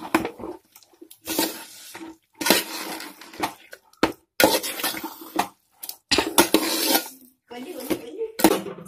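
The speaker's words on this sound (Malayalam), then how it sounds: "നന്നായിട്ട് ഇളക്കി കൊടുക്കണം." Mutton curry with onions is stirred in a pot, heard as loud bursts of metal spoon scraping and clattering against the pot, separated by brief silent pauses.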